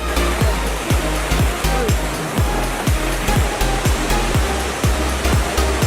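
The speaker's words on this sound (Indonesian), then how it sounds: "menikmati air terjun setinggi 30 meter" Loud, steady rushing water from a 30-metre-high waterfall fills the whole clip, a dense roar with repeated low thumping pulses throughout.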